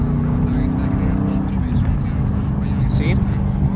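A Dodge Challenger's engine drones loud and close as the driver downshifts with the paddle shifters, its revs shifting under a voice that talks throughout.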